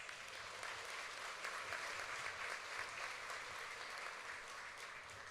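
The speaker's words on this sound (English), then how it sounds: "please give her another round of applause" Audience at the Choctaw Nation Princess Pageant applauding a runner-up, a steady, moderately distant wash of many hands clapping throughout with no voices over it.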